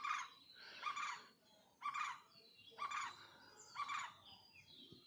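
A bird in the trees at a temple repeats a loud, bright call in bursts about once a second, fairly close, with a quiet gap between each phrase.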